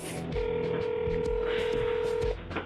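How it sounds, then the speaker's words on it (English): Touch-tone telephone dialing: a steady electronic beep held for about two seconds with faint key clicks before and around it, close and clear against a quiet background, with no voices. "Call that number."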